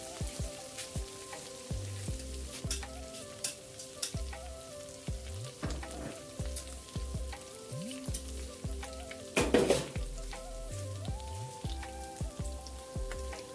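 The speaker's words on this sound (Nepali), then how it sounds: "यो चाहिँ साथीहरू अदुवा लसुन र खोर्सानीको पेस्ट हाल्दैछु" Ginger, garlic and chili paste sizzling in a pan for a chicken dish, a soft continuous crackle with scattered pops, heard faintly under background music.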